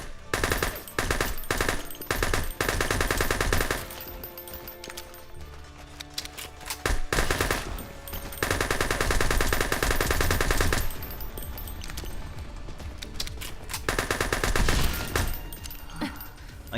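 Rapid automatic gunfire from a video game, long bursts of loud firing that run through most of the stretch with brief pauses between volleys.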